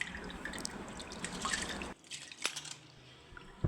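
Rice is washed by hand in water for idli batter, with close sloshing and swishing for a couple of seconds, then quieter drips and trickles.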